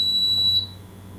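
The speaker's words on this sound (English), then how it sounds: "if you don't turn off the alarm, it will continue to alarm" A tornado alert device sounds a steady, loud, high-pitched alarm tone that holds for about half a second and then cuts off, leaving a quiet hum.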